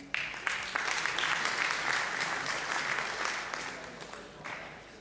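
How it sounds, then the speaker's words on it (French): Audience applause fills the hall at a national philately congress in Paris, a steady, dense clapping that holds evenly for several seconds before gradually tapering off, with no one speaking over it. "Applaudissements"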